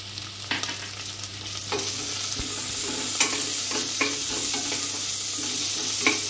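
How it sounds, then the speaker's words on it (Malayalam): Carrots, beans and green peas fry in a pan with onions, sizzling steadily while a spoon scrapes and stirs them, making repeated clicks and scuffs against the pan. "അതിൻ്റെയൊക്കെ ഒരു പച്ചമണം മാറുന്നവരെ ഇളക്കി കൊടുക്കാം നന്നായിട്ട്"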